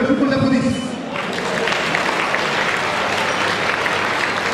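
An audience at the 50th anniversary celebration of FC Bressuire football club claps in a hall, with a short burst of speech at the start and then dense, sustained applause filling the room.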